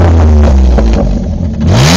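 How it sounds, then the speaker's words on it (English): A Pontiac G6 with a six-speed manual and a bit of exhaust is revved up loudly and close, engine note climbing, dipping and rising again over two seconds. "Why don't you give it a little rev?"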